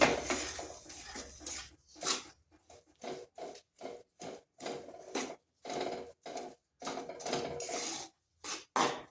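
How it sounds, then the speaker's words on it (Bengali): A spoon scrapes and clinks against a pan while melting jaggery is stirred for pitha, in a steady series of short, separate strokes. "এইভাবে নাড়তে নাড়তে গুড়টা কিন্তু তরল হয়ে যাবে"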